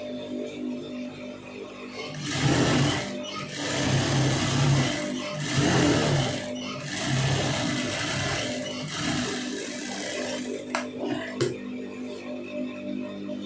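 A domestic sewing machine stitches a blouse lining in bursts of steady whirring lasting a couple of seconds each, with short pauses between, close and moderately loud.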